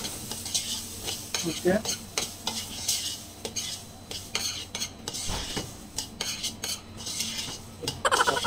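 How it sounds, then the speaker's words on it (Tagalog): A utensil stirs fried rice with mixed vegetables, eggs and soy sauce in a pan, giving repeated close scraping and clinking strokes over a steady sizzle, with a brief spoken word. "haluin lang na mabuti para ma-mix yung ating ingredients tsaka yung toyo."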